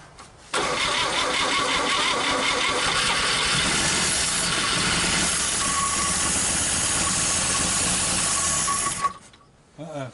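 A 1959 Chevrolet Apache truck engine, carburetor just refitted after years unused, cranks and catches into a loud, steady mechanical roar that runs close and continuous for most of the stretch before cutting off abruptly.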